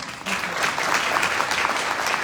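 A burst of audience applause at a business seminar in a Karachi hotel, clapping starting abruptly and staying dense and steady for about two seconds.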